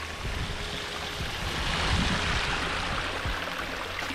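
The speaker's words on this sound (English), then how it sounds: "It's a waterfall." A waterfall near a house being fixed up pours in a steady, even broadband rush, close and continuous, with no talking over it.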